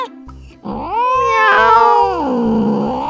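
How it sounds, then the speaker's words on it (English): A cat lets out a long, loud, wavering howl, close up and rising into a strained wail before trailing off. "the cat howled and flopped to the ground"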